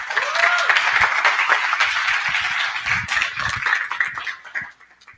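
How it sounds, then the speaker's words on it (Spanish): Loud crowd applause fills a conference hall at an SEO event, dense clapping that holds steady for several seconds with a few voices mixed in, then thins out and fades near the end. "Un aplauso muy fuerte."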